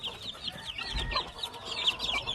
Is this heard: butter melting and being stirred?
no